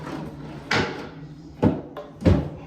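The sticky drawer of a cheap piece of furniture is yanked open in three jerky, scraping thumps that are close and uneven.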